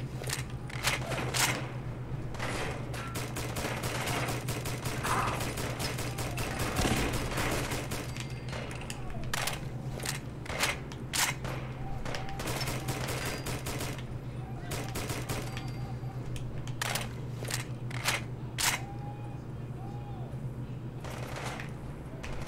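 Rapid bursts of gunfire from the video game Fallout 4, loud and repeated throughout with brief pauses between volleys, over a steady low hum, while a person talks at times.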